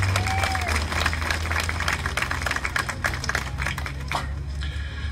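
An audience at the Hospice of San Joaquin Tree of Lights ceremony claps steadily for volunteers, dense even applause sustained throughout.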